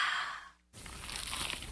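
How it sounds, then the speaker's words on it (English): Crunchy, cheesy pizza slice bitten in an advertisement, a short crisp crunch and crackle following a brief silent pause, close and clear with no talking. "Is that the sound of an ooey gooey cheesy crunchy slice of P-I-Z-Z-A?"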